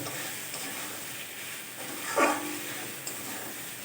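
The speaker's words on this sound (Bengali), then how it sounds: "ভিজিয়ে রাখা ডালটা দিয়ে দেব ডালটা দিয়ে আর কিছুক্ষণ আমি কষিয়ে নেবো" Soaked lentils are stir-fried in a pan. A low, steady sizzle continues throughout, with one brief louder scrape of a spoon near the middle.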